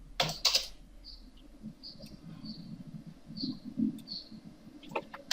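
Someone types an AutoCAD command on a computer keyboard: a quick burst of close key clicks at the start, then sparse individual taps and a few more clicks at the end over a quiet room.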